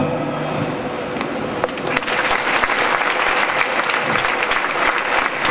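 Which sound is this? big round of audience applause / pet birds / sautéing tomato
big round of audience applause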